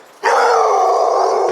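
A dog on a city street in Chester, Pennsylvania, lets out a single drawn-out howl, loud and close, starting suddenly and holding steady for over a second.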